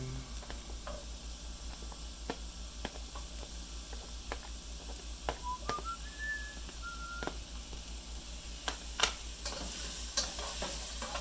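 Onions hit hot fat in a pan for Italian sausage pasta, a soft continuous sizzle with sharp scraping stirs and clinks of the utensil at irregular moments, and no one talking.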